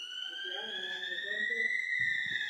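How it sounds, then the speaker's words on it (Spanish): A building fire alarm sounds during a drill as a steady loud high-pitched tone, with faint voices talking underneath. "Eso que escuchan es la alarma de incendios"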